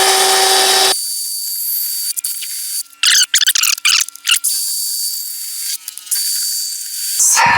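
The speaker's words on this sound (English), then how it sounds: "Now I can go ahead and drill my other 3" A power drill bores holes through a metal clamping block for a homemade belt grinder, loud and steady at first, then broken bursts of high squealing cutting with pauses, before the drill runs again near the end.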